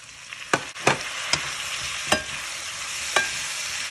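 Tomatoes frying in a pan with garlic and ginger for the Filipino vegetable dish pinakbet: a steady, bright sizzle broken by several sharp scrapes and clatters as the mix is stirred, close up with no talking.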